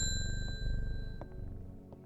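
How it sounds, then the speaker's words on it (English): Shop bell in the puzzle game Strange Horticulture rings with a clear, bright metallic ding whose tone hangs and slowly fades over about two seconds, close and distinct above a low background hum. "ring the bell"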